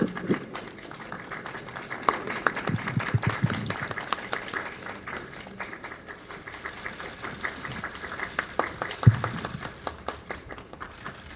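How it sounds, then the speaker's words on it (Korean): Scattered applause at a film preview press conference welcomes the director and actors, irregular individual claps standing out against a low background hum, fairly quiet and thinning in places. "따뜻한 박수로 맞아주시기 바랍니다"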